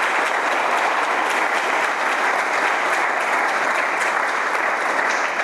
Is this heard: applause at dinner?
yes